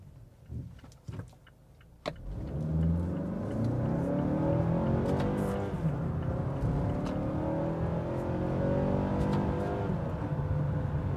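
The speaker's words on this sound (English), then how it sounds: "first and foremost is you actually hear the engine" A 2017 Mazda CX-5's engine rises in a steady drone with road noise as it accelerates, sustained and fairly loud from the cabin after a few brief knocks at the start.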